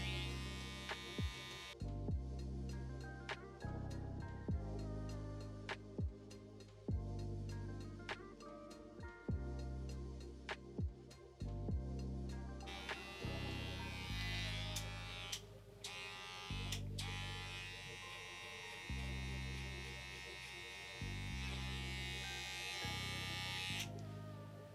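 Cordless electric hair clippers buzz steadily and close while cutting a freestyle hair design, the hum broken by frequent brief clicks and changes in tone as the blade moves against the hair.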